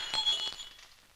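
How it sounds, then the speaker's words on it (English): A wine glass shatters with a sharp, bright crack and a brief spray of tinkling shards that quickly fade, heard close and alone. "Does it break because it is faulty or because it is glass?"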